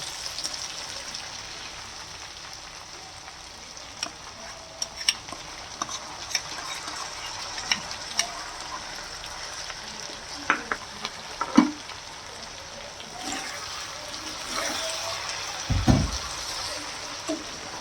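Green chillies with salt and tamarind fry in a pan, a steady soft sizzle running throughout while the mix is stirred, with scattered scrapes and taps of the spoon and one heavier knock near the end, close up and with no talk.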